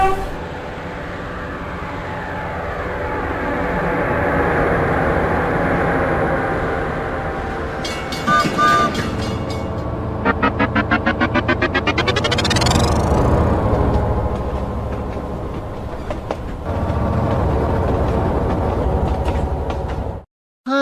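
A subway or elevated rapid-transit train rumbles past loud and close, wheels clattering rhythmically, then its horn sounds with a rising tone before the roar continues and cuts off.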